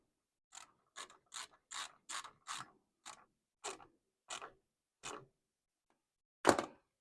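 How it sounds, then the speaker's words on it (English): A brake hub nut on an EMPI front disc brake install is tightened with a ratcheting wrench: about eleven crisp, evenly spaced ratchet clicks in short bursts, close and clear against silence, with one louder clack at the end. "then tighten that nut up"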